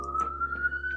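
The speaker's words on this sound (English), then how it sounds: "We've got sirens going outside." Emergency sirens wail outside, heard from indoors as a loud, steady, slowly rising tone that fills the whole moment.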